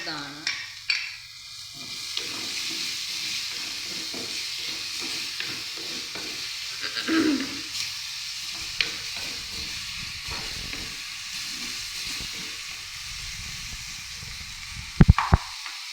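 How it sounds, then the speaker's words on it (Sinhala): Pandan leaves and spices fry in a pan of oil, giving a steady close sizzle with soft stirring scrapes, a few faint clicks, and sharp utensil knocks near the end. "ඊට පොඩ්ඩක් මේක මෙහෙම බැදෙන්න දෙනවා මම"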